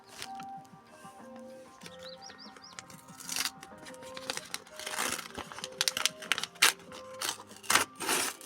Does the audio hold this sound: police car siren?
no